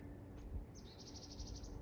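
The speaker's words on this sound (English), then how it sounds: "Listen to the birds." Faint high chirping calls of birds repeat in a quick series over steady outdoor background noise, trilling at a distance.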